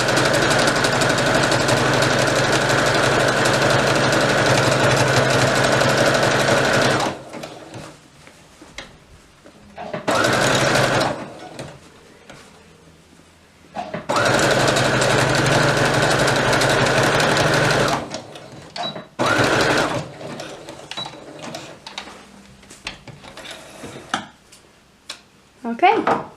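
A sewing machine stitches elastic into the waist of a toddler's dress in loud, steady bursts of several seconds each, separated by quiet pauses as the fabric is repositioned.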